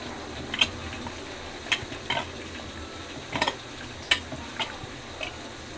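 A spoon stirs spices and chicken masala in a pan for homemade chicken pulao, giving irregular light metallic clinks and scrapes over a soft, steady background hiss.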